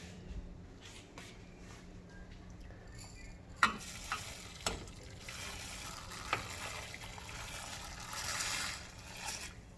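Rice goes into a pan with oil, onion and spinach, frying with a soft continuous sizzle while a spoon scrapes and clatters against the pan in a few sharp knocks and strokes. No one speaks.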